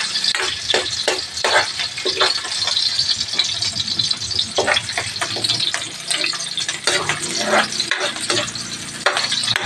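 Onions fry in a pan while being stirred, giving a constant close sizzle broken by repeated scraping and clattering strokes of the spoon, with no voices.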